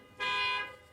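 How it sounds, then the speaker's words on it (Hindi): A single car horn blares outside in one sustained, loud honk lasting about half a second, rising abruptly and then fading. "हॉर्न बज रहा था"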